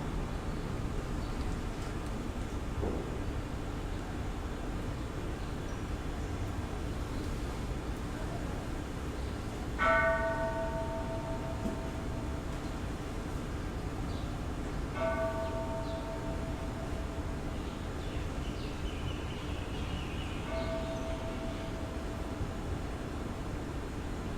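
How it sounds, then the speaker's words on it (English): The starting bell of a Buddhist Spring Higan service is struck three times, each strike about five seconds apart and ringing out as it fades, over a steady background hiss of the hall. "We will now begin our Osunafumi service with the starting bell."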